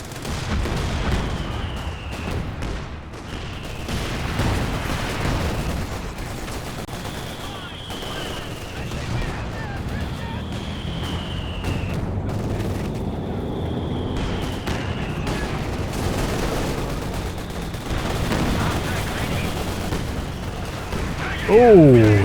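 Company of Heroes 2 firefight, with heavy mortar blasts and rattling gunfire and artillery booms under a caster's steady commentary, whistling incoming shells arcing through the mix.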